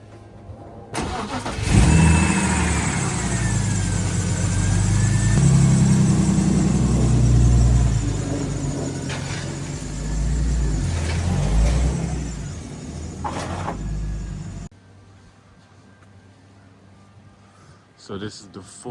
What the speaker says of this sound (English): I'm just gonna back it out of the driveway so I have more room to get in and out of the car.